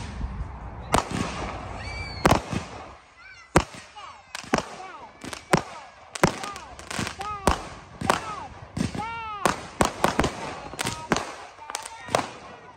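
Fireworks burst in a long series of loud, sharp bangs spaced irregularly, with rising whistles between the blasts and people's voices around them.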